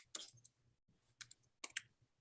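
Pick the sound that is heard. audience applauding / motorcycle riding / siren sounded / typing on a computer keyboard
typing on a computer keyboard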